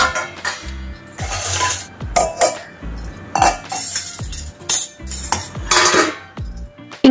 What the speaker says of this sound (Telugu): ఇంకా అలా కొన్ని గిన్నెలు ఉంటే వాష్ చేశాను